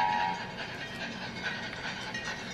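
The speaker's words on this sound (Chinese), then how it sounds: "原来是因为当年的蒸汽火车来" Recorded steam train sound effect from a children's picture book: a continuous rumbling rail-car clatter with a faint whistle-like tone, moderately quiet and steady, with no talking.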